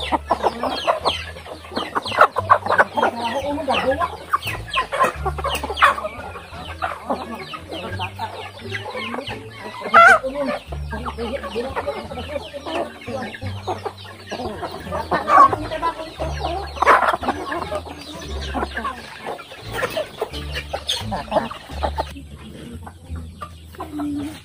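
Chickens cluck continuously and close by in a busy farmyard, with overlapping clucks and squawks at varying loudness over a low steady hum, and no voices.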